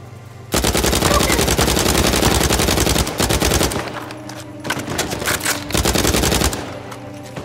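Gunfire in Uncharted 4, loud rapid automatic bursts of near machine-gun fire in long rattling stretches with brief pauses between.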